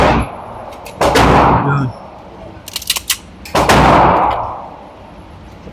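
A Great Lakes Synergy handgun with feeding issues fires two sharp, loud shots about two and a half seconds apart, with a few lighter metallic clicks between them and a voice speaking briefly.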